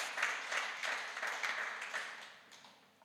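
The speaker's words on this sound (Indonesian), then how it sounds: "Kita berikan tepuk tangan bagi Tuhan Yesus" Applause in a church worship service, fairly soft rhythmic clapping in a steady beat that fades gradually toward the end.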